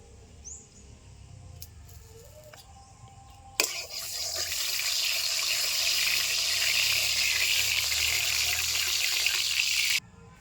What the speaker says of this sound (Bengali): দিয়ে দিচ্ছি সরষের তেল